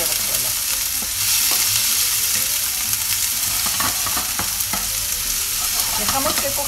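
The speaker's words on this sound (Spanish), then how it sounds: "Está caliente la sartén, añadimos el repollo." Cabbage sizzles in a hot frying pan as prep for a mushroom risotto, a steady close crackle broken by occasional sharp pops and stirring scrapes, with no talking.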